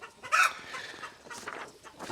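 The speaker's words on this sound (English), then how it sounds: "those chickens are loud." Chickens cluck loudly in a quick burst followed by a steady run of softer, overlapping clucks and squawks close by.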